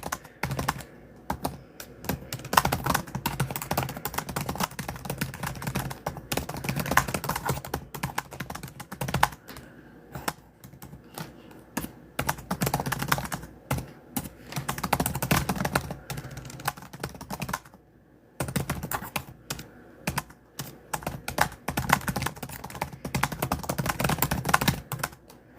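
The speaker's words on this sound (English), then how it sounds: "I type like 130 something words per minute." Very fast typing on a computer keyboard produces dense bursts of clicking that pause briefly now and then, close and fairly loud, with no speech.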